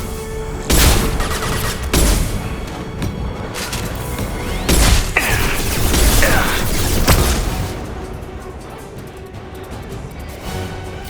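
Flashbang grenade blast amid a Mass Effect 2 firefight: several loud, sharp bangs and booms spread across the stretch, with gunfire-like bursts and a sustained rumbling wash between them.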